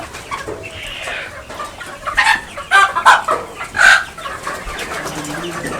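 Chickens cluck and squawk repeatedly in a crowded indoor room of a poultry hatchery, several birds close by, with no talking.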